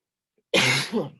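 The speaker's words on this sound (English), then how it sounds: "Sorry about the cough." A single harsh, dry cough from a dry throat bursts out close by during a lecture after a moment of silence, with a short second rasp trailing off.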